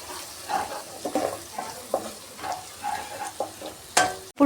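Onion gravy seasoned with chili powder, salt and turmeric is stirred in a pan, a spoon scraping in irregular strokes over a soft continuous sizzle, with a sharper clatter near the end.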